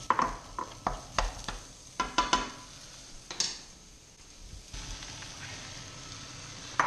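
Vegetables being stir-fried in a wok for vegetarian ramen, with sharp clanks and scrapes of a utensil against the pan over a low, steady sizzle.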